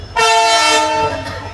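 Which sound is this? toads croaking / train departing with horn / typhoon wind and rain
train departing with horn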